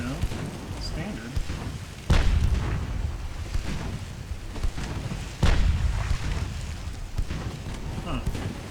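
Naval gunfire from a 6-inch gun in Ultimate Admiral Dreadnoughts, with British light cruisers of 1910: two heavy booming shots several seconds apart rise over a steady low rumble of wind and sea, and a voice talks throughout.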